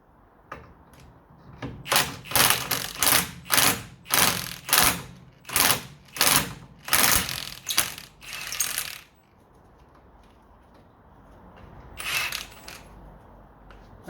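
A ratchet wrench working loose corroded castle nuts on a Ford P100, a close run of about a dozen loud metallic clicking strokes, then a pause and one more short burst.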